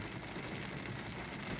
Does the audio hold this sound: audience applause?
no